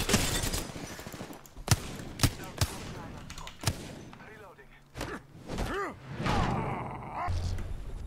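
Gunfire from a weapon set to single fire in Apex Legends: separate sharp shots at uneven intervals over a busy game mix, with some talk and effects around them.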